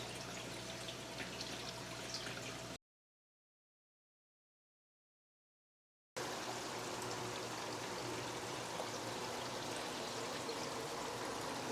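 Water flows and trickles steadily through a running plywood aquarium sump, a soft continuous stream-like sound, briefly broken by a few seconds of silence.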